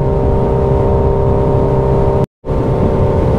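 A Suzuki Hayabusa Gen 3 motorcycle engine held above 4000 rpm on an open road, a steady loud, continuous roar with dense wind rush, briefly dropping out to silence for a moment before resuming.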